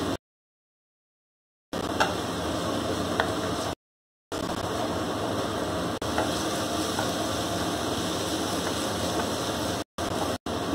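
Onions frying in a pan with salt and turmeric as they are stirred, a soft steady sizzle with faint scraping, interrupted by a few brief silent gaps, no voices over it.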